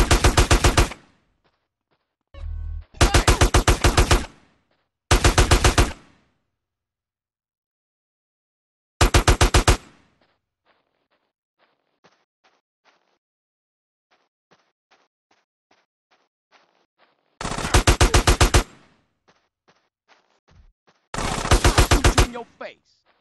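Loud bursts of automatic machine gun fire from GTA San Andreas Definitive Edition arrive in several separate volleys, some short and some longer, with quiet gaps between them broken only by faint scattered clicks and ticks.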